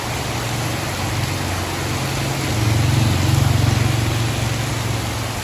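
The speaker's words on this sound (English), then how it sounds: "The rains are here." Heavy rain hisses as a dense, steady wash in Vietnam between Dong Ha and Hue, with a low engine-like hum underneath that swells briefly midway.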